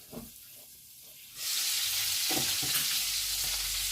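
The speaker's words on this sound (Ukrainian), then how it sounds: "Вони так гарно просмажилися під кришечкою." Zucchini frying in a covered pan, a steady loud sizzle that starts abruptly after a quiet moment with a few faint clinks, then holds a continuous bright hiss alone to the end.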